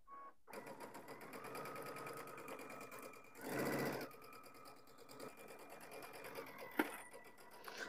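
A sewing machine stitches around a Christmas stocking in a steady whirring run, then a short burst of faster stitching for a backstitch, and the machine stops with a click, close and alone.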